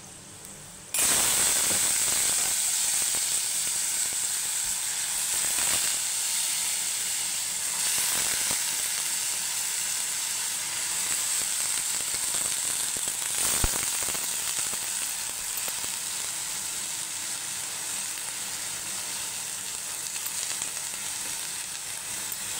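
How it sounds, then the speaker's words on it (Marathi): Chopped bottle gourd hits a hot pan and sizzles, a loud steady frying hiss that starts abruptly and continues throughout, with occasional faint stirring clinks and no talking. "आता हे आपण चिरून घेतलेले हे टाकून घेणार आहे कद्दू"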